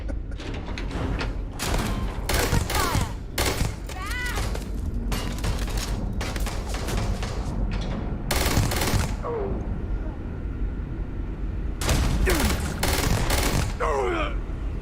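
Rapid bursts of shotgun and automatic gunfire from a firefight in the Starfield video game, loud repeated blasts in clusters with short gaps, mixed with game effects throughout.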